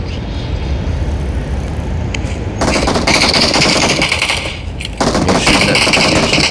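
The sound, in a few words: gunfire in the video game PUBG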